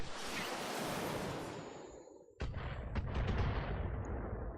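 A volley of LRM missiles fires in the BattleTech mech game, a dense rushing roar that fades, then a sharp burst of launches and impacts crackling loudly to the end.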